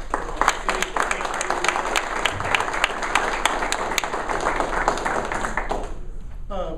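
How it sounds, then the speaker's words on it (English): Crowd applause at a community gathering honouring a local developer's commitment: lively, sustained clapping with sharp individual claps standing out, close and fairly loud, cutting off near the end, with speech mixed in. "I want to give this man a round of applause"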